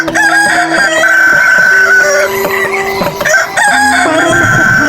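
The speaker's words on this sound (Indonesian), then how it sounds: "membuat ayam jantan berkokok" A rooster crows repeatedly, loud and close, with clucking fowl around it, part of a staged Indonesian theatre retelling of the Sangkuriang legend.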